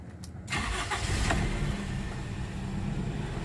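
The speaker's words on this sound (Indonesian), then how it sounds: "Kita nyalakan ya untuk mesinnya." Toyota Kijang LGX 1.8 from 2004 with manual gearbox: after a few cranking bursts the engine catches at about half a second and settles into a steady, fairly loud idle close by, with no talk over it.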